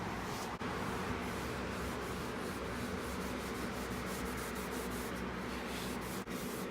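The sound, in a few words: cloth rubbing mineral oil onto a wooden grill scraper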